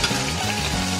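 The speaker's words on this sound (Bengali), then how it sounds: "পেঁয়াজটা ভেজে মশলাটাকে কষে নেব।" Onion, turmeric, cumin, coriander and chilli powders fry in oil for a soyabean kofta curry. A loud, dense sizzle runs close and constant with a scraping stir, and no talk.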